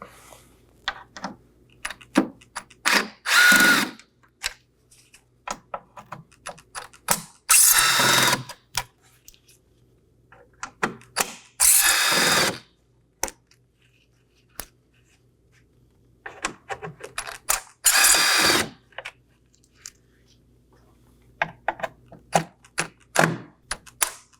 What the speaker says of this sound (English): locate our 6 T15 Torx screws on our grill. We're going to go ahead and remove those now. I'll be using a T15 Torx bit